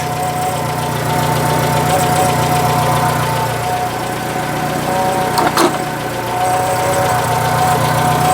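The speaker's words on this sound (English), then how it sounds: "Does sound like the exhaust's a little blowy." A car engine idles steadily with a low, uneven rumble and a faint puffing note from a blowing exhaust, close up, with a brief clunk partway through.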